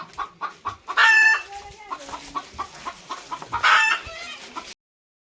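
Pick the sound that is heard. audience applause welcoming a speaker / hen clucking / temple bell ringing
hen clucking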